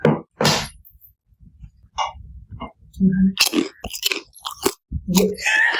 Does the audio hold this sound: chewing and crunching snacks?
yes